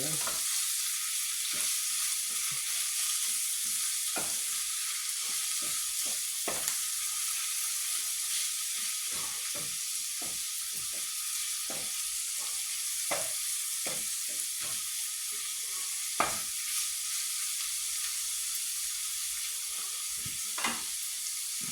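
Mussels frying with translucent onions in a pan, a soft steady sizzle and hiss punctuated by frequent light spatula taps and scrapes, fairly quiet and with no speech.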